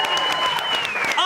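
Audience applause breaks out at a monologue slam show, a short burst of clapping heard alongside an excited voice speaking over it.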